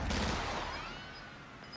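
Gunfire rings out in a Call of Duty gunfight, one heavy burst up close at the start that trails off into a long ringing decay with a faint distant crack near the end, no talking.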